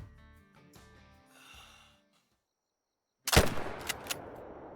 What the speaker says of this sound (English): And there's the shot.